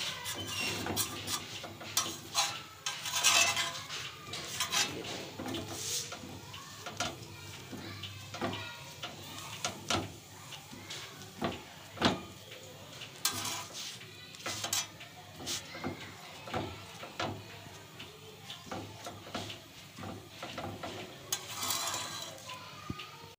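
A besan masala roti roasting on a griddle while pressed down with a cloth, a soft intermittent sizzle with scattered taps and scrapes of kitchen utensils, faint and close.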